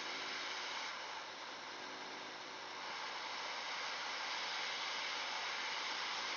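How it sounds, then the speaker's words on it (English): A hot air rework station blows steadily to melt solder under a MOSFET on the circuit board of a failed Kessil H380 grow light, giving a continuous close airy hiss that holds level with only slight swells. "Position it something like this, and heat it with"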